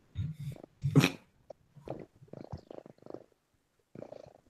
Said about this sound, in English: I hear a pet purring.